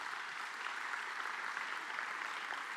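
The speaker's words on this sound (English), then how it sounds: "Once again, let's give Minister a round of applause." Audience at a water and sanitation conference clapping steadily, a dense even wash of applause throughout with no voices.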